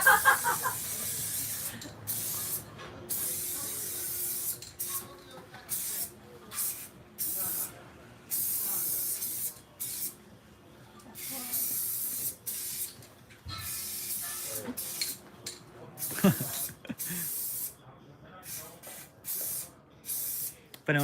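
Aerosol spray paint cans hissing against a wall, repeated bursts of sharp close hiss separated by short pauses, with faint talk in the background.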